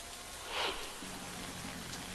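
Steady rain hiss fills the whole clip with a brief louder swell near the start; no voices.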